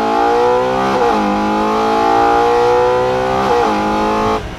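A Ferrari Purosangue's 6.5-litre, 725-horsepower V12 revs loudly and close, its tone climbing steadily through gear changes with brief dips between pulls, and no talking.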